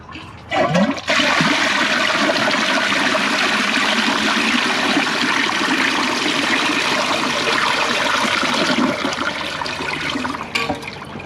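A 2004 Eljer Patriot toilet with an overfilled tank flushes in one loud, sustained rush of water lasting about ten seconds before cutting off abruptly, with no voices.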